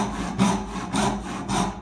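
An old, rusty hand saw cuts wood for a half lap corner joint, three rasping strokes in steady rhythm, close and loud with no voices.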